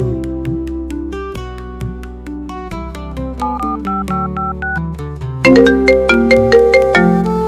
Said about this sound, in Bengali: আরে অয়নের ফোন